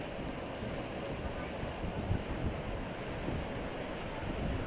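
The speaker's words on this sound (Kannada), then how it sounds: "ದೂದ್ ಗಂಗಾ ನದಿ ಅಪಾಯದ ಮಟ್ಟ ಮೀರಿ ಹರಿತಾ ಇದೆ." Floodwater of the Doodh Ganga river, running above the danger level near a village in Chikkodi taluk, Belagavi, makes a steady, broad rushing roar mixed with wind buffeting the microphone, continuous throughout with no clear talk.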